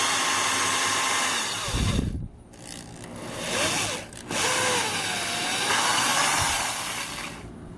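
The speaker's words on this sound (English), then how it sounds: "now we're going to drill into the mortar up to the masking tape line" A power drill whines steadily as it bores into brick mortar, with a short pause and a couple of brief stops before resuming.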